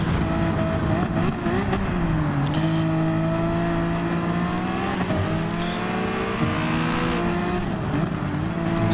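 Toyota race cars in a Gran Turismo video game hold a steady, loud engine drone. The pitch rises and falls as the engines rev through gear changes, with no voices heard.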